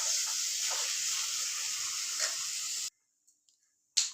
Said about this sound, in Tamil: இப்போ தேங்காயெல்லாம் போட்டு கொஞ்சம் கருகிராமல் வதக்கி எடுத்துட்டுருக்கணுங்க.